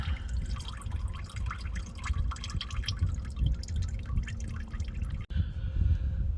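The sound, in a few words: engine oil dripping from car while draining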